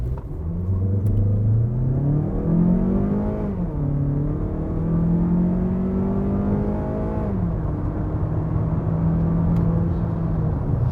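A Mazda MX-30 hybrid accelerates hard from 0 to 100, its engine note climbing through several gear changes in a continuous loud, rising drone.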